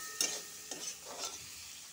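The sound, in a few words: onion and tomato frying in pan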